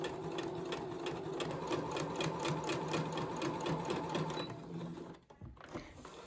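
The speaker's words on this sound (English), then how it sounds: "You wanna make sure you sew the whole way down." A sewing machine runs a steady, rhythmic stitch down the length of a fabric face mask, with even mechanical clatter for about five seconds before stopping abruptly, leaving faint handling noise.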